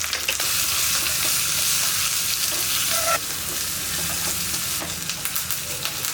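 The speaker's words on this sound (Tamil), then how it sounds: "இப்போ இதில் ஒரு கைப்பிடி அளவுக்கு சின்ன வெங்காயம் போட்டுக்கலாம். இதை நல்லா வதக்கிடுங்க." Shallots, dried chilies and curry leaves frying in a pan, a loud, dense crackling sizzle that drops slightly midway and continues steadily with occasional stirring, no talk.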